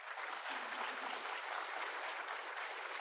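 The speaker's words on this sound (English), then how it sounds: "Let's get a round of applause." A crowd's round of applause at a university robing ceremony: steady, dense, even clapping at a distance, continuous for the whole stretch with no voices above it.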